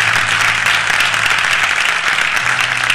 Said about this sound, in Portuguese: Os senhores aplaudem a Deus pela vida desse